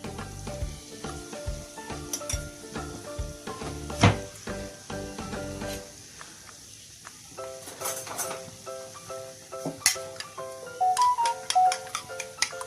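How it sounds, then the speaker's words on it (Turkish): Two salted eggs are beaten in a bowl for a boiled-potato egg dish, giving quick rhythmic clinking strokes for about six seconds before easing off, with soft tonal music running underneath. "Çırpıyorum arkadaşlar yumurtamı da."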